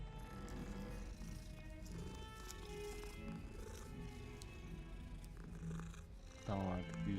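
Soft, steady purring of a cat in Hogwarts Legacy runs through the clip, close and continuous, with a brief brighter chirp-like burst near the end.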